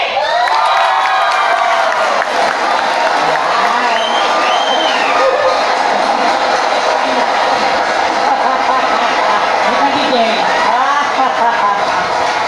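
A live comedy-show audience claps and shouts in a loud, dense wash of crowd noise that runs unbroken throughout, with voices mixed in.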